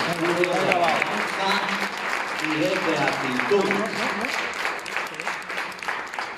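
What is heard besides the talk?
congregation applauding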